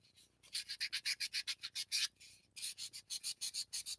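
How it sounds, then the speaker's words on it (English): Sandpaper wrapped around a paintbrush stick rubs back and forth on a small recycled chess piece in quick, even, close strokes, with a brief pause partway through. "This is just some sandpaper on a stick."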